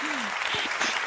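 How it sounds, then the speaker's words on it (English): A brief burst of audience applause at a speech, a dense crackle of clapping with a faint tone and small voice-like sounds mixed in. "I think this is worth an applaud."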